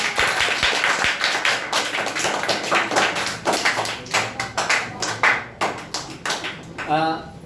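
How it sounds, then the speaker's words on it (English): Audience at a public speaking competition claps for a contestant, a dense run of handclaps mixed with chatter and voices in a hall, ending with a brief tonal ping. "clap for Sony"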